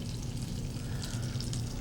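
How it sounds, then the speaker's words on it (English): Marsala wine hisses and sizzles in a hot pan with butter and olive oil, a steady, fairly loud frying crackle with no voices. "we want to add a little Marsala wine right into this."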